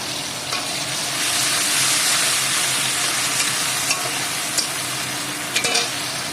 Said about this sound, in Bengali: চিংড়ি মাছগুলো ভাজা হয়ে গেছে